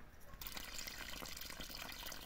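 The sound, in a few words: water running from tap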